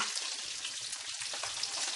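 A soft, continuous crackle and hiss of bacon frying in a pan, steady and close, with no voices.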